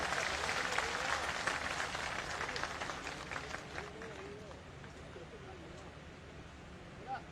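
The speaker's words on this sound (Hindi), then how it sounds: "मैं सबसे पहले उसके लिए आप सबकी तरफ से तालियों की गड़गड़ाहट से स्वागत करना चाहता हूं" Audience applause at a Jaipur felicitation event for lecturers, a dense steady clapping that fills the clip and slowly eases off, with a faint voice surfacing near the end.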